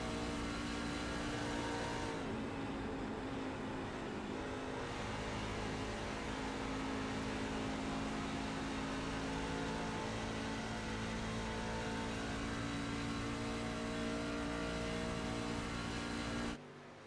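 Race truck engine held at light throttle on the Atlanta oval in the iRacing video game, a steady sustained drone with gentle shifts in pitch, continuous and fairly loud, cutting off abruptly at the end.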